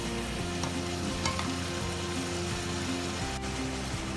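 Tofu and ginger stir-fry in a hot pan with a steady, loud sizzle, and a few light clinks of a utensil come through as the food is stirred.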